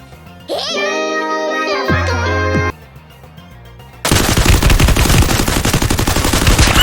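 Gunfire from the Free Fire mobile game: after a stretch of synthetic tones, a loud, rapid automatic burst rattles continuously for several seconds, close and dense.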